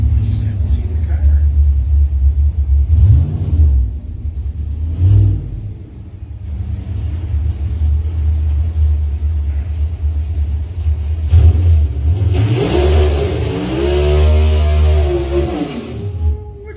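A 2014 Ford Mustang engine rumbles and revs at a car show, its low growl steady throughout and swelling in a louder rev near the end, with crowd talk and announcer speech mixed in.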